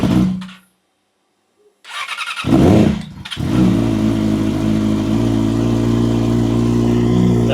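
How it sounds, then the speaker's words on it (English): A Yamaha R6 motorcycle fitted with a Leo Vince exhaust cranks, cuts out briefly, then fires up and revs before settling into a loud, steady idle close by, with no talking. "I absolutely love this Leo Vince exhaust."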